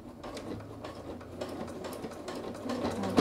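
Sewing machine fitted with a twin needle stitching a kangaroo pocket onto a sweatshirt, a steady close whirring chatter of rapid needle strokes running unbroken for a few seconds.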